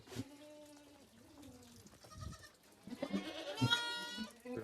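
Goats bleat in a village herders' pen, several wavering, quavering cries close by, growing louder and overlapping toward the end amid faint background rustle.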